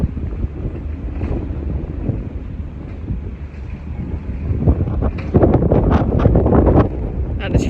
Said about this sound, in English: As you can hear, it's very windy all of a sudden